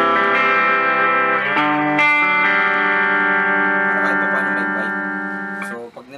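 Electric guitar run through an effects chain with a booster pedal and shimmer-setting reverb, sustained chord tones ringing out with a lush, washy tail that slowly decays, heard alone with no talk.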